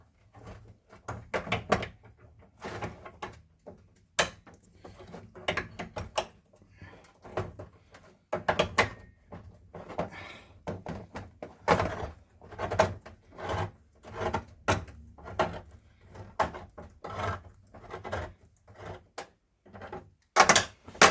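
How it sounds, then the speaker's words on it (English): Cans are opened in a kitchen during salsa making, with a run of close, irregular metallic clicks, thunks and scraping knocks, separated by short quiet gaps. "let me just open the other cans in here and stir everything up"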